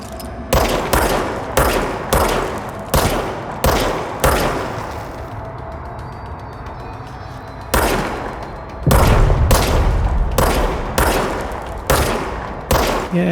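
Gunfire in the video game Control comes in rapid, loud bursts of sharp shots. A short lull in the middle is followed by another run of repeated blasts.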